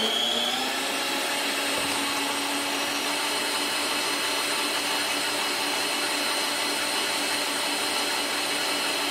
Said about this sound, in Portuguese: eu vou colocar as minhas claras na batedeira. Vou ligar a batedeira